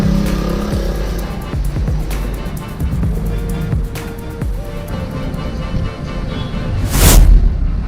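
A motorcycle's exhaust note rumbles and pops close by in uneven bursts of revving, then ends in a sharp, loud blast near the end.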